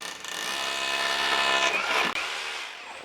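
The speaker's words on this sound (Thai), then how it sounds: "ใช้สว่านโรตารี่เจาะลงไปก่อนค่ะ" A rotary drill whirs steadily at close range while boring into a wall, rising in pitch, then briefly cuts out and spins on.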